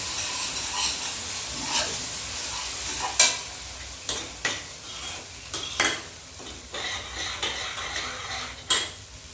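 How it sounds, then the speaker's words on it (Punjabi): Onions and green chillies fry in oil for a tadka in a pan on a gas stove, a steady close sizzle broken by sharp scrapes and clinks as a spoon stirs against the metal. "ਤੇ ਪਿਆਜ਼ ਨੇ ਜਿਹੜੇ ਆਪਣੇ ਭੁੱਜ ਰਹੇ ਨੇ"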